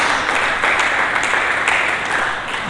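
A church congregation applauds together, dense continuous clapping filling the space at steady loudness, tapering only slightly at the end.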